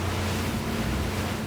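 Twin engines of a Ranieri Cayman 45.0 cruiser maxi RIB at 35 knots give a steady, close roar, blended with rushing wind and water spray.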